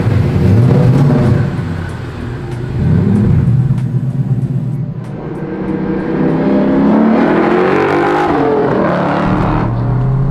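A Coyote V8-swapped 1967 Ford Mustang Fastback revs hard while driving, its loud engine note rising and falling in repeated surges with a steady rumble between pulls.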